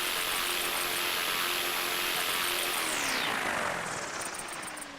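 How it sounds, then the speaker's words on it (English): Simulated RC helicopter in the RealFlight Evolution video game, a steady buzzing rotor and engine whine that holds level, then drops in pitch and fades slightly toward the end, with no voices. "Let's see if I can get this helicopter up."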